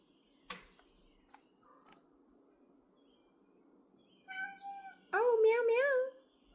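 A house cat meows for wet food: a couple of faint sounds first, then two clear close-up meows, the second louder and drawn out, over a quiet room.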